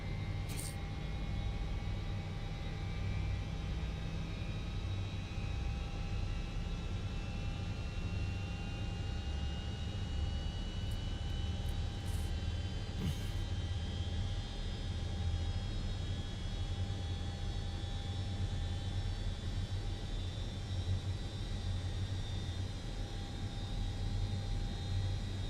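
Lockheed L-1011 TriStar jet engines spool up for takeoff on runway 25 right at San Francisco in a flight simulator, a steady loud roar with rising whines holding for the whole stretch, no talk.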